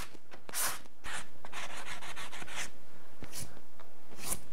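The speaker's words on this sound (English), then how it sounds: "I'm just gonna hit it real quick with a sanding sponge." Repeated dry rasping strokes of a sanding sponge rubbing primed wood trim, in short bursts with brief pauses, close up and moderately loud.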